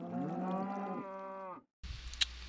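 A Minecraft cow gives a single long, drawn-out moo with a steady harmonic tone, clear and close, ending abruptly before a short burst of faint background clatter.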